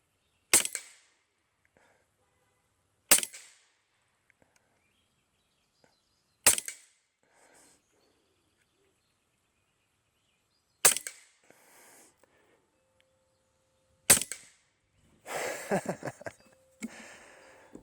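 An LCS Air Arms SK19 .30 caliber PCP air rifle fires five sharp, isolated cracks spaced a few seconds apart, each with a short decay, followed by faint clattering handling noises.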